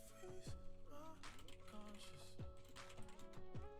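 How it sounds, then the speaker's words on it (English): Quiet typing on a computer keyboard, a scatter of light irregular clicks and taps running under faint game music. "Oh, I was just typing in chat."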